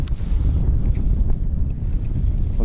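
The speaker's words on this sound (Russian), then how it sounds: "Вот ветер, конечно." Steady wind gusting across open lake ice during a snowstorm, with ice fishing underway for pike; a continuous low rumble of buffeting air with faint scattered knocks, close and fairly loud throughout.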